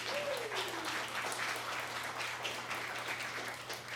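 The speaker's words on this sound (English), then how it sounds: "Let's do a little round of applause for Pat." A small audience gives a round of applause, fairly faint but continuous clapping with a low steady hum beneath and a brief voice-like glide at the start.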